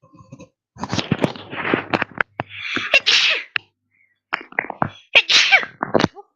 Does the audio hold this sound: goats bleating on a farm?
no